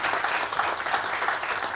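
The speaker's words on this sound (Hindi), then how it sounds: "आप लोगों को भी तालियां।" Studio audience of a Pakistani morning TV show applauds, a short burst of steady dense clapping, moderately quiet and without talk.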